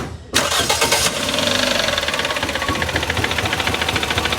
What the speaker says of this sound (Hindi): ये हमारी GL स्टार्ट करी